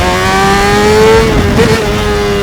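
A Honda CBR600RR sport bike pulls hard down a straight in wheelie mode, its engine a loud, close, rising whine that climbs steadily then briefly dips and wavers near the end, with no talking.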